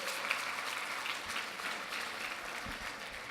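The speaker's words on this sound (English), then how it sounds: "Give them a round of applause." Banquet audience applauding the band, a continuous crowd of clapping hands at moderate level, steady throughout with a few thumps underneath.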